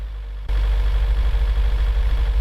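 A simulated Mercedes Sprinter van engine in American Truck Simulator kicks in after a half-second of quiet, then holds a loud, steady low drone close by with no talk.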